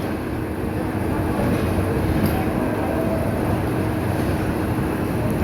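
A train pulls out past the far end of Kamalapur railway station in Dhaka, heard as a steady, broad rumble of rolling stock that holds evenly throughout with no voices.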